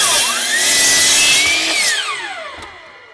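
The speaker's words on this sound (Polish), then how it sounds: "moja ukośnica tnie 12 cali na spokojnie w poprzek" A miter saw cuts crosswise through a 12-inch-wide wooden board, its motor whining up loud and close, then a steady cutting roar that winds down over about three seconds with no talking.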